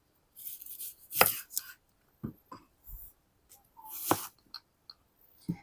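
A knife cuts through an onion on a board in a quiet kitchen, a handful of separate crisp chops and slices spaced apart with short silences between.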